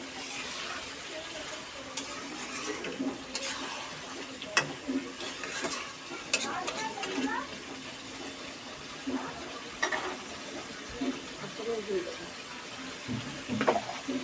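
Chicken and potatoes in a pan are stirred, giving a soft scraping and clinking of a utensil with light sizzling underneath, while someone speaks over the cooking.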